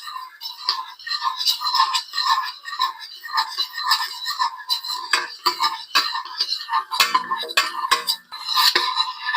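Garlic and ginger sautéing in a pan for papaitan are stirred with a utensil, giving steady rhythmic scraping and clinking against the pan, close and fairly loud throughout.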